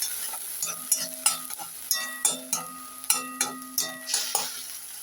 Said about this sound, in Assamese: অকণমান হালধি আৰু এইখিনি পিঁয়াজখিনি ভালদৰে ফ্ৰাই কৰি ল'ম।